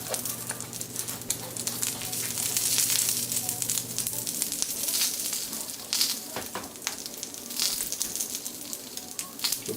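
Eggs and bacon frying on a cast iron griddle give a steady, fairly loud sizzle with crackling pops throughout, and a low hum fades out partway through.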